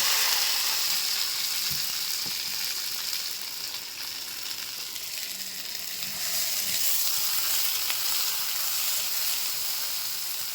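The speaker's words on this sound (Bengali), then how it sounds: "সবার আগে ভেন্ডি ভেজাটা করে নেবো" Okra (bhindi) frying in a pan gives a steady, close sizzle with soft hissing that runs the whole time, now and then broken by faint stirring, and no voices are heard.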